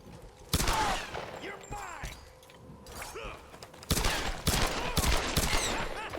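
Sharp gunshots and rattling bursts of fire from the video game Tomb Raider (2013) crack in uneven clusters, close and loud, with grunts and gasps between volleys and a voice speaking.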